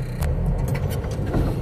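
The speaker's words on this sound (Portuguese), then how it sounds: "Fazendo um barulho muito grande aqui nessas rodas aqui" A car bumps along a rough rural track where fallen branches block the way, its wheels producing a loud, continuous rumbling and rattling noise with low engine drone throughout.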